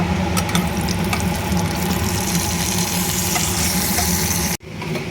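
Pointed gourd (potol) slices frying in oil in a pan, a loud, steady close sizzle with bubbling and crackle running throughout, briefly dropping out near the end before resuming.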